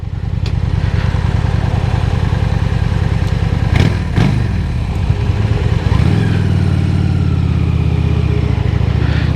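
Motorcycle engine pulling hard through several gear changes while riding on a hot day, a loud steady drone with pitch sweeps at each shift and a deeper rumble near the end, no talk.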